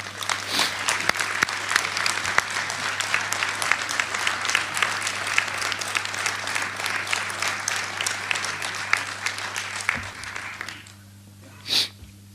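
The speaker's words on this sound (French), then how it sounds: "Je vous demande de les applaudir ce soir" A town hall audience applauds municipal staff at a New Year's greetings ceremony in Thorigny-sur-Marne, a steady dense clapping that carries on for about ten seconds before fading out.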